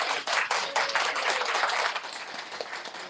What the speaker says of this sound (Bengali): ওখানে একটু হাততালি দেওয়া হবে